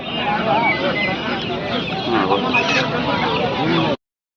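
An Aseel rooster clucks repeatedly and loudly at a busy poultry market in Kundarapalli, Krishnagiri district. Other birds and market voices mingle in the background throughout.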